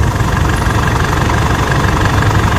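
An Isuzu D-Max 4JK1 diesel pickup engine with an injector fault idles with a steady, rough knocking rumble, loud and close, with no other sounds.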